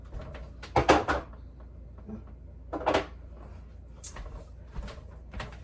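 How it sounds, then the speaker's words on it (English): Yeti tumbler lids are set into a kitchen drawer, giving a few hollow plastic clunks and knocks in short bursts separated by quiet gaps, close by and with no speech. "I've got my Yeti lids, which I'll put in right now."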